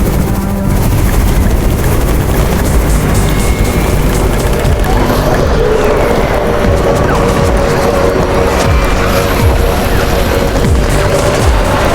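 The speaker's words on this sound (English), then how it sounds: "It's the Raven's chopper! We have backup!" A loud, steady helicopter roar in a zombie survival video game fills the scene with heavy rumbling and crashing noise throughout, constant and close.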